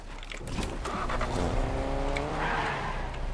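A car driving in Fortnite, its engine droning and rising in pitch as it revs, with tire squeal, close and steady.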